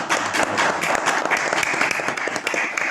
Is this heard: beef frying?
no